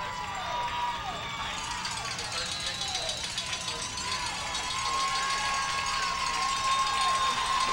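A high school football crowd cheering for the Wildcats at a game against Shelby Valley, a steady wash of distant roaring voices in a large outdoor stadium, with a commentator talking over it.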